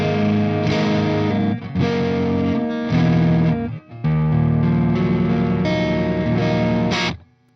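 An electric guitar with a super-hot Telecaster pickup plays through a Marshall JCM 800 50 watt amp, giving distorted, sustained chords in a few held phrases with a brief break midway, loud and close.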